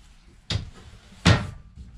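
Two quick wooden knocks of a camper cabinet door in a Cougar 30FKV being opened and bumped, close by, with a short pause between them.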